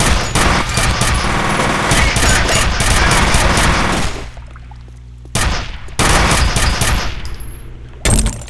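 Rapid automatic gunfire in the F.E.A.R. video game, a loud dense fusillade of shots that stops abruptly, then resumes in bursts with brief quiet gaps between.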